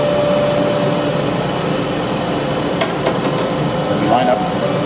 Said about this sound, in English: Then there's a vacuum that holds the pant in place.